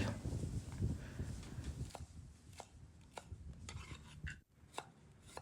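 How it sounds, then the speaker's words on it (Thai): Shallots being crushed and lemongrass sliced on a board for a Thai offal soup, a dense scraping crunch giving way to a series of crisp knife taps spaced about half a second apart, close up. "ถูบหอมแดง ตามมากับตะไคร้ซอย"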